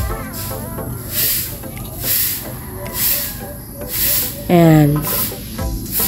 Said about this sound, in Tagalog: kumukulo na ang ating tinulang manok. Ayan, halo-haloin lang.